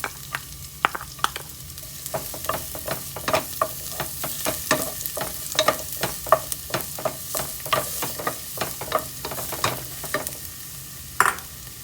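Garlic sautés in a hot pan with a steady sizzle while a utensil scrapes and taps against the metal in frequent sharp clicks, all close and without talk.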